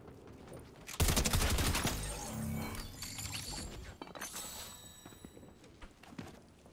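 Rapid burst of video game gunfire, a dense run of loud shots that starts abruptly, then trails into scattered shots and game noise for several seconds.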